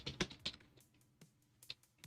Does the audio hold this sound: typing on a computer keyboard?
yes